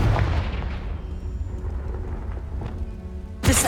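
Confringo spell explosion in the video game Hogwarts Legacy, a heavy rumbling blast that decays over a few seconds before a sharp crack at the end, loud and close.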